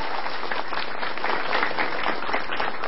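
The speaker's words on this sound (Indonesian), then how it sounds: "Tepuk tangan" Steady crowd applause at a stand-up comedy show, a continuous dense clapping wash that holds at even loudness throughout with no talking over it.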